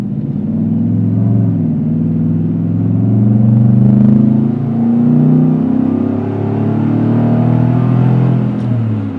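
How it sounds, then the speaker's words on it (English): A pickup truck's deep engine roars steadily and loud, rising and surging under hard acceleration from a red light, with a throaty low rumble throughout and no talking. "isn't that such a sweet like sound and feeling every time you hammer the gas"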